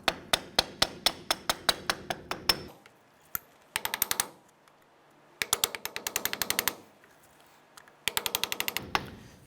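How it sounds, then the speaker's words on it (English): Repeated sharp metallic taps from a hammer working a ball joint cover off the front lower suspension of a 1993-1997 Ford Ranger, struck in rapid bursts of a dozen or so blows separated by short pauses, close and loud. "as I'm tapping this, I'm slowly prying it out"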